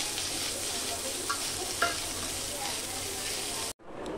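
Leftover cooked rice fries in a pan as fried rice, a steady close sizzle with a couple of faint scrape-like stirring taps, briefly cutting out before the frying resumes.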